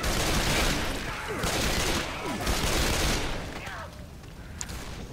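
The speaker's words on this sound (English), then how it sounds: "why are you shooting me?" Loud, dense bursts of gunfire from the Left 4 Dead 2 video game fill the clip, with a few sharper shots standing out near the end and no talking.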